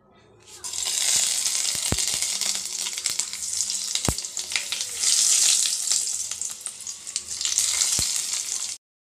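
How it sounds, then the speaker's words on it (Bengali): Panch phoron, bay leaf and dried chili fry in white oil in a kadai, a loud continuous sizzle swelling in waves with a few sharp pops and clicks. "প্রথমে দিলাম পাঁচ ফোড়ন তারপরে তেজপাতা তারপরে শুকনো লঙ্কা দিয়ে তারপরে ভালো করে তেলের মধ্যে আমি ভেজে নিচ্ছি পোড়নের মশলাটাকে"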